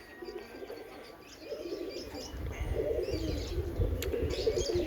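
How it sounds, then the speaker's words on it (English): Lovebirds call as they fly over outdoors, their chirps and calls coming and going at moderate distance over a steady bed of background noise that thickens toward the end. "Some lovebirds flying over again."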